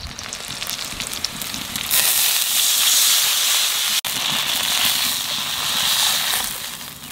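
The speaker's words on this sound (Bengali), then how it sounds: "এইবার জল দিয়ে দেব" Water poured into a hot pan of frying potatoes bursts into a loud, steady hiss and sizzle that swells after a couple of seconds and holds, close up and with no talking.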